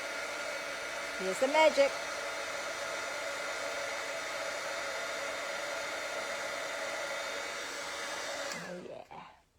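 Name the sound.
heat tool heat embossing gold embossing powder on a card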